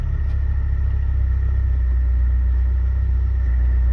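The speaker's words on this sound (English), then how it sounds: "Doesn't like it idles a lot smoother." A Saab 900 Turbo engine idles in sub-zero cold with a deep, steady low rumble, constant and close, with no talk over it.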